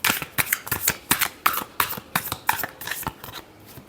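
A deck of tarot cards being shuffled by hand, close and fairly loud, in a steady run of about a dozen quick riffling bursts with no talking.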